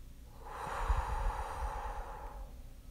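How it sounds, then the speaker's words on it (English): A slow, soft exhale lasting a couple of seconds, breathy and close, swelling then fading away, taken deliberately to calm down after a panic attack. "Breathe in. All right, one, two, three, breathe out."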